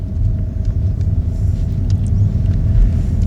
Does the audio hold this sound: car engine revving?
yes